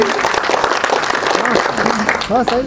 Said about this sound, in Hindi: थोड़ी जबरदस्त तालियां आनी